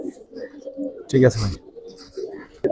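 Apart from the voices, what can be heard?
pigeons cooing in a loft (Giribaz/coloring pigeons)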